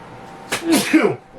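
A single sharp sneeze from a person during a sports podcast conversation, brief and close, with a quick voiced burst.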